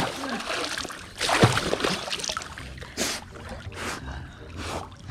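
A dog swimming in a warm pool slaps the water with its paws and bites at the rising splashes, producing several bursts of splashing and sloshing over a low ambient bed.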